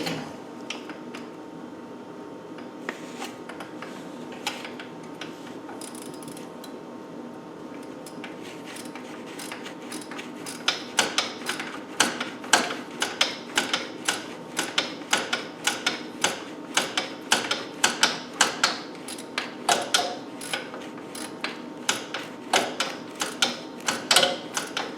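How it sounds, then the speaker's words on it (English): Ratchet fitted with a 13mm socket working engine bolts on a Land Rover 300Tdi during gasket replacement, giving a run of rapid, close mechanical clicks in bursts that grow denser and more regular in the second half. "use a ratchet with a 13mm on it"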